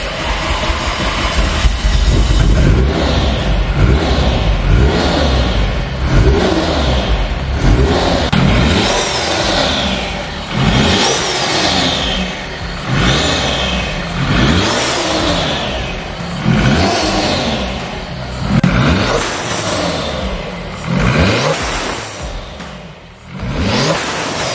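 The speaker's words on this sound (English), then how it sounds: "You can have a listen to what the charger sounds like." Renault Clio 3 RS engine fitted with a KTR supercharger kit, started and revved repeatedly, each rise and fall of revs carrying a rising supercharger whine, loud and close with no talking.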